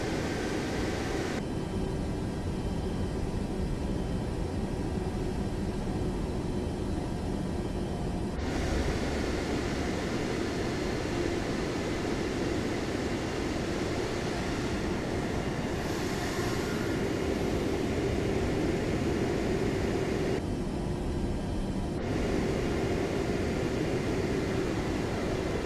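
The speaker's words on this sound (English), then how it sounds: "Just taxiing to the runway 16 left." Steady broadband rumble and hiss from an airliner taxiing toward runway 16 left in Microsoft Flight Simulator 2024, with engine drone held constant and some faint tonal shifts partway through, no voices.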